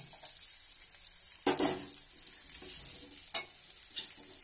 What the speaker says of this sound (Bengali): পেঁয়াজ ভাজা হয়ে গেছে। তো আমি ভেজে রাখা সবজিগুলো এবার দিয়ে দিচ্ছি।